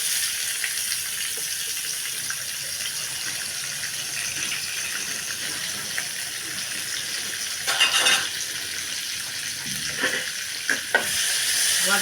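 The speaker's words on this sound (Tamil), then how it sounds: "வதக்க விடுங்க" Onion, garlic, ginger and chili sautéing in a pan for a mixed mushroom stir fry, a steady close hiss with a few louder clatters of stirring near the end.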